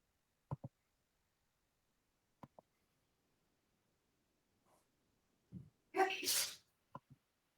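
A single sharp, loud sneeze bursts out close to the microphone, preceded by a few quiet clicks and a soft intake of breath, with brief taps following in an otherwise quiet room.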